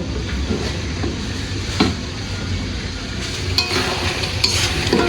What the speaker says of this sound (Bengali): এখানে বাবুদের জন্য নুডলস রান্না করছি